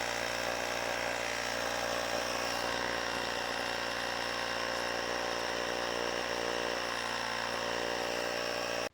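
RYOBI 18V ONE+ high-pressure cordless inflator running steadily while pumping up a sports ball to 8 PSI, a loud continuous motorized drone close by with no pauses throughout.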